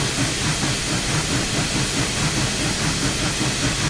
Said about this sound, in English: The steam piston is going, compressing the air.